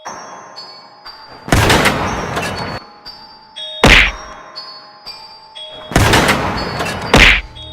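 A cartoon tank fires at monsters in two heavy, booming blasts, each followed a couple of seconds later by a sharp impact thud, all close and loud over a faint background tone.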